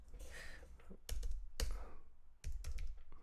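Bursts of quick key presses on a computer keyboard whose battery is running low, clicking in short clustered runs close up with pauses between them.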